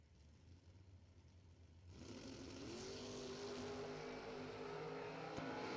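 A Corvette and a 1968 Camaro launch together in a drag race, the engines surging from a faint idle into a loud, rising roar that holds steady to the end.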